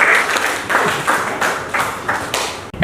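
Classroom applause from students for their class after a pretest, a dense patter of many hands clapping in several swelling bursts, fairly near and loud with no talk over it.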